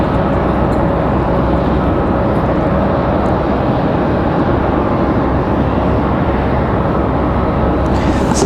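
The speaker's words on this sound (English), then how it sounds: "Aeromexico coming in from Mexico City. 3 hours, 41 minutes of flight time for the" Aeromexico's Embraer E190LR jet, inbound from Mexico City, arrives at Raleigh-Durham airport with a continuous, loud engine rumble that holds steady and unbroken for several seconds.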